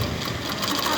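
A sewing machine stitches a repaired seam after a fault fix, a steady dense mechanical whir running the whole moment at close range with no voices.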